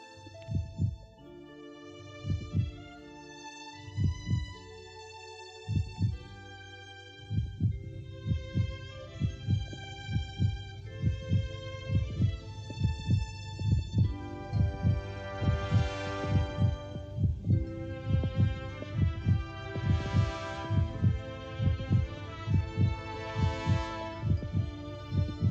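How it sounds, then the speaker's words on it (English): The heartbeat of a swallow coming back to life thumps in a slow, steady double rhythm, low and deep, under a swelling musical score of sustained tones. "Is it a heartbeat?"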